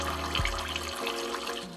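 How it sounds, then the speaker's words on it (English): Witch hazel is squeezed from a bottle into a cup in a soft, steady liquid trickle with a brief splashy start, close and quiet, and no talk. "So the witch hazel I'm going to squeeze in here."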